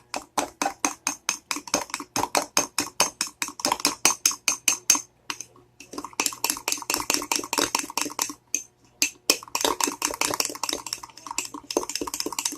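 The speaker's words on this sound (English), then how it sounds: "now I'm going to stir this. and stir it until it's really well mixed" A fork stirs chocolate mug cake batter in a mug, giving a rapid, steady run of close metallic scrapes and clinks with one short pause midway, and no talking.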